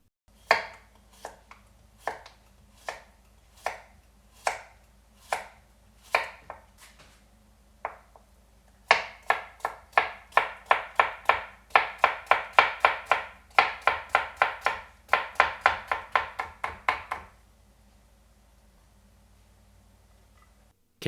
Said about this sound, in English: we're just going to julienne slice this, which basically means to cut it into thin strips